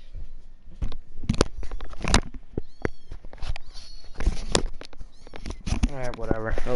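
Cat meows rising and falling among clattering taps and thumps, with a longer, wavering meow near the end; fairly close and loud, mixed with other bumps and noise.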